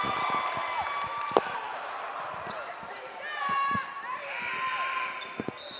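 High school boys basketball crowd in a gym, a steady roar of voices and cheering with a few sharp sneaker squeaks and thuds on the court.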